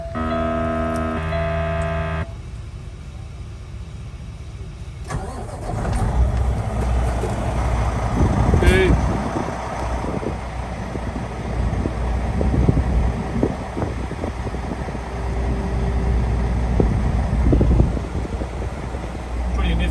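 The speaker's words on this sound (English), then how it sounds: "let's say you start the truck," A few seconds of steady tones give way to a Kenworth T680 semi truck's diesel engine cranking by remote start and settling into a loud, rumbling idle with clattering mechanical noise.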